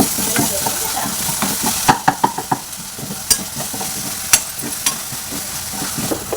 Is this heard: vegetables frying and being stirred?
yes